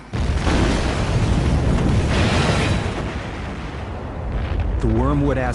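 An asteroid impact explosion effect surges into a massive, sustained rumbling roar that slowly fades, followed by someone speaking over the tail end.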